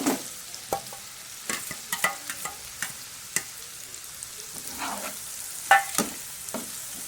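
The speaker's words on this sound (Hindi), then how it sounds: "तरीके से हमने प्याज को जो है वो भूनना है तकरीबन 4 से 5 मिनट तक।" Sliced onions fry in oil with a steady background sizzle while a spoon or spatula scrapes and stirs the pan in frequent sharp clinks and knocks, close and moderately loud, with no talking.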